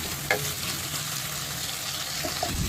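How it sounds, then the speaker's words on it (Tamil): Okra frying and being stirred in a pan for a Tamil-style curry, giving a steady, close sizzle with the occasional scrape of a spoon and no talking. "நல்லா ஃப்ரை ஆகட்டும். அப்போ இந்த வளவளப்பும் போயிடும்"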